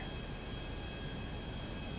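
An airplane engine drones steadily while flying in GTA 5, a constant broadband roar with a faint high whine and no breaks or variation.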